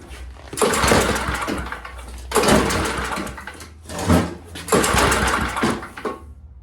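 A small engine running as more throttle is given, a loud close buzzing drone in three long bursts with brief dips between them and no talk.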